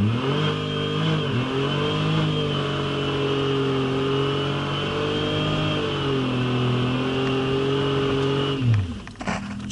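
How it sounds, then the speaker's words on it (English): A cheap used van's engine holds a high steady rev during a burnout, its pitch dipping and climbing a few times, loud and close, then breaking up into rough rattling near the end. "just by applying the throttle, you can do burns for days."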